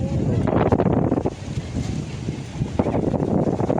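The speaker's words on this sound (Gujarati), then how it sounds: "દાંતડીનો પુલ અત્યારે એટલો પાણીનો ભરેલો છે" Floodwater pours over the Dantadi bridge after heavy rain as a loud, rushing roar buffeted by wind on the microphone, with a voice talking over it throughout.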